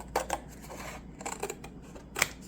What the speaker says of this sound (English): And then I'm just going to cut